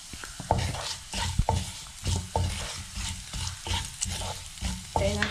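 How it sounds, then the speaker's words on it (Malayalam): Pieces of coconut are sautéed in a pan, a soft sizzle broken up by repeated scraping strokes of a spoon against the pan in a steady rhythm, heard close up with no talk. "തേങ്ങാക്കൊത്തിൻ്റെ കളറ് മാറുന്ന വരെ നന്നായിട്ടൊന്ന് വഴറ്റിയെടുക്കാം"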